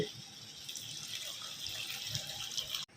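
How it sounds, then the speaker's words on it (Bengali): Hot water poured into a pot of boiled mung dal, a steady splashing stream lasting nearly three seconds before stopping abruptly, close by with no talk. "এবার দিয়ে দিচ্ছে একদম গরম করে রাখা জল"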